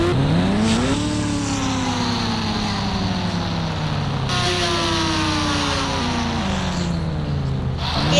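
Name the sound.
KGF bike engine in video game Indian Bike Driving 3D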